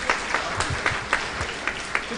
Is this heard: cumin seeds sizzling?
no